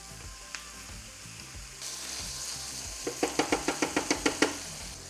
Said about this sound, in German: Als nächstes das Rinderhackfleisch hinzufügen und krümelig anbraten.